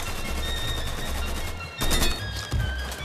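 Gunfire in the video game Mafia III: a rapid automatic burst that rattles on steadily, then a short pause and two heavier, louder volleys close together near the end.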